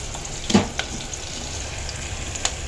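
Goat boti pieces fry in a pan in a village kitchen, giving a steady low sizzle with a brief louder spatter near the start and a faint click later.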